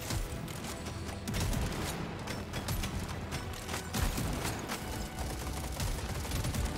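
A shotgun fires rapidly in Deep Rock Galactic: Survivor, a dense, continuous stream of sharp blasts mixed with mechanical clatter, loud and without speech.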